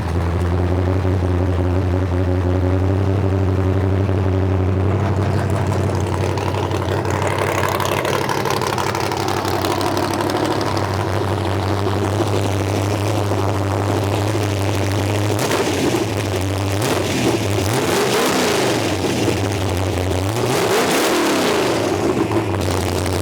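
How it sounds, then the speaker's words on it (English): A cammed LS engine in a Vega fitted with a Brawler 750 4150 carburetor idles with a lumpy, loping rumble, then takes a series of throttle blips that rise and fall in revs, loud and close outdoors. "We'll start up and we'll see if it sounds a little better when you blip the throttle."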